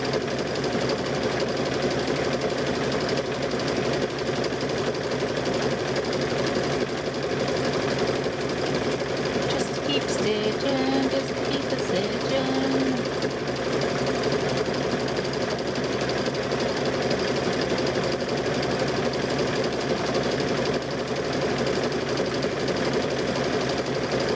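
Sewing machine stitching loops of rope around the top rim of a fabric-wrapped rope bowl, a steady continuous motor whir with rapid needle chatter running throughout, close and even.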